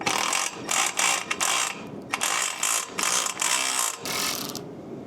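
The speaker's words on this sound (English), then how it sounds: "Let me get this nut off of here real quick." A hand ratchet loosens a nut on a BMW B58 downpipe during a catless downpipe install, giving bursts of quick clicking pawl strokes in an uneven rhythm with short pauses between them, close and clear.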